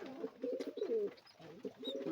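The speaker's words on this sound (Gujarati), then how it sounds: "આ છે બચ્ચા આપણા કબૂતરના. ને આ જો ગગડવાનું ચાલુ છે" Pigeons coo near their chicks in repeated soft throaty phrases, two bursts separated by a short pause, close and fairly quiet.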